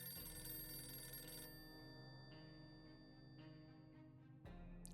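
Old-style telephone bell ringing in the video game 60 Seconds, a quiet sustained ring with a few brief pulses, alone without talk.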